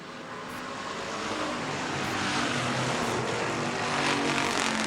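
Strictly Street stock cars circle a track at about 72 mph, their engines a broad, distant roar that swells gradually and holds steady with no voices.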